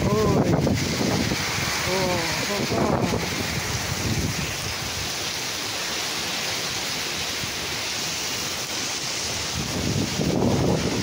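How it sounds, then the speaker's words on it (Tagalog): Constant heavy rush of typhoon wind and rain in Quezon Province, Philippines, recorded from a balcony, with gusty buffeting and a voice speaking briefly at the start and end. "Ayan po, nakikita ninyo, hangin at ulan."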